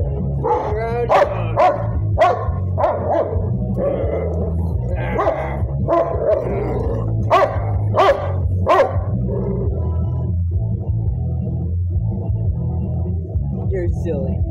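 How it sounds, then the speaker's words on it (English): A rowdy dog barks repeatedly in loud, uneven bursts close by, with occasional yips, while someone talks over it in a garage during work on a 2008 Ram 2500's lower ball joint and wheel bearing. "Rowdy dog."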